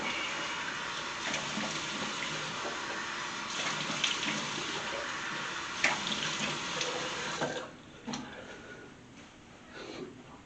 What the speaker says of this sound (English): gonna splash some hot water on my face